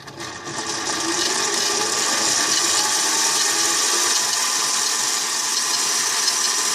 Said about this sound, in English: I'm going to set this up and turn the lathe on